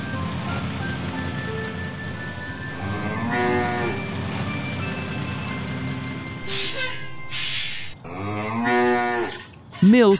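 A cartoon cow on a farm moos twice, long drawn-out lowing calls over a steady background hum, with a short burst of noise between them.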